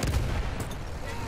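Artillery fire in Battlefield 1: a brief, dense rumbling burst of low booms and crackling fire, loud and continuous over just over a second.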